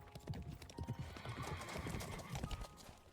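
Hooves of Riceball, a horse carrying two riders through spring fields of flowers in the video game Love and Deepspace, an even clip-clop rhythm of steady footfalls at moderate distance under soft ambient sound.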